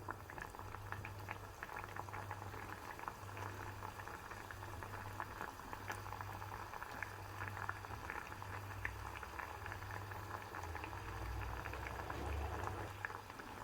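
Apples bubbling in a pot of water reduced to less than half for a cough remedy, a steady close boil with continuous fine bubbling and a low rumbling hum underneath, no voices.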